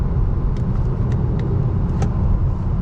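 A 2019 Honda Clarity Plug-in Hybrid driving at steady speed, a continuous low road and tire rumble with faint cabin noise and a few light clicks, close and unbroken throughout.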